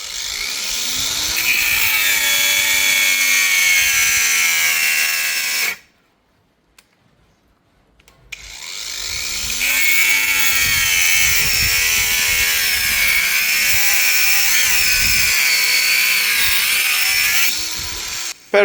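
A Hychika 18V cordless angle grinder runs with a steady, loud high-pitched whine that cuts out abruptly for a few seconds, then spins back up and holds until the end.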